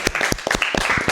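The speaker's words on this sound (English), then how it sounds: "Can we get a round of applause for this guy?" A short, dense burst of clapping and applause in a casual podcast stream, with several quick claps overlapping close to the microphone and no speech on top.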